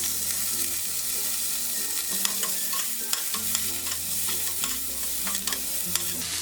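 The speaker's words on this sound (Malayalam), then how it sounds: "ഇതിലേക്ക് ഈ ചെറുതായിട്ട് അരിഞ്ഞു വെച്ചിരിക്കുന്ന ചുവന്നുള്ളിയും വെളുത്തുള്ളിയും ഇഞ്ചിയും കൂടി ഇട്ട് വഴറ്റി കൊടുക്കാം" Chopped shallots, garlic and ginger sauté in coconut oil on an electric stove for a Kerala fish curry, a steady close sizzle with stirring clicks over soft background music.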